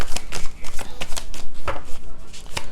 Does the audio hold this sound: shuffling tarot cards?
yes